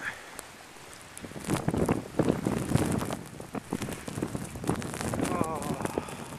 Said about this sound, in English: Here comes a strong gust.